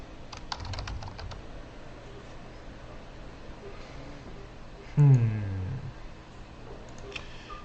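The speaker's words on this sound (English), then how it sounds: "just type the @ sign and then start typing Ryan" Close typing on a computer keyboard, quick clusters of key clicks at the start and a few more near the end, with a brief louder thump in between.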